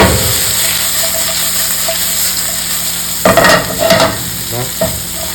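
Garlic and beef stir-fry in a pan, a steady loud sizzle throughout, with sharper scraping stirs and spatula clatter breaking in during the second half.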